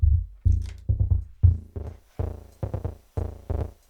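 A Basimilus modular synth voice, run through a Mimeophone and a Steve's MS22 filter, plays punchy bass-heavy hits in a fast, uneven rhythm, about a dozen sharp attacks with short decays in a few seconds.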